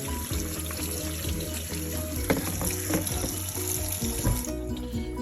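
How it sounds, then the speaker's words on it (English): Cold tap water runs steadily over cooked ziti pasta in a kitchen sink, a constant close splashing rush with faint clinks, no voices. "give it a little push of cold water"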